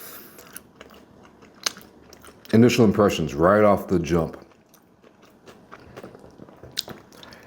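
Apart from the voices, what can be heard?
biting and chewing crunchy Korean fried chicken from Bonchon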